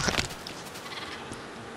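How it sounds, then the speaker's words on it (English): Minecraft sheep, including a baby sheep, bleat in short soft calls near the start over a steady game background hum, fading to a low ambient wash for the rest. "And look at the little baby sheep."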